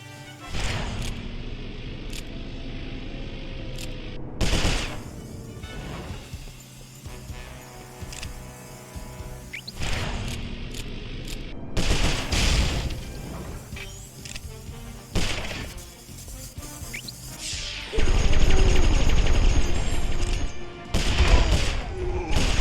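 Gunfire in Sly Cooper: Thieves in Time, loud sharp shots and bursts scattered among crashes and thuds, with a heavy sustained blast near the end.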